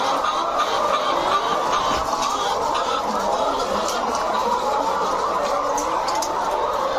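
Dense chatter of many layer hens clucking at once inside a commercial poultry farm, a steady continuous din filling the shed with no pauses.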